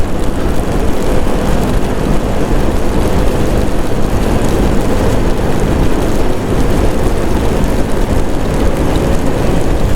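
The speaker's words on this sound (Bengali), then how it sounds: "মুষলধারে বৃষ্টি পড়ছে" Heavy monsoon downpour during a motorbike ride between Kolkata and Keonjhar, Odisha: a loud, dense, unbroken roar of rain and rushing air that stays constant for the whole stretch.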